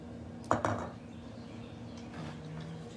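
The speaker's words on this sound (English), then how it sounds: "go ahead and stir that" A spoon clinks against a bowl while stirring a sour cream and mayonnaise mixture for a corn dish in an outdoor cooking setting. Two quick clinks come early, then softer scraping follows at close range.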